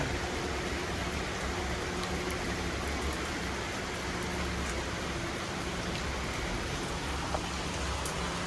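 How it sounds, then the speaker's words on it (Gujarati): Light drizzling rain falling in Rajkot, a steady, even hiss of drops that continues without a break throughout. "જો સરસ મજાનો વરસાદ આવી રહ્યો છે"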